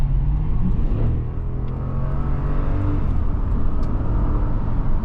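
A 2021 Toyota Land Cruiser accelerates onto a freeway, its engine building a steady, loud rumble with rising revs over constant road noise and no talk.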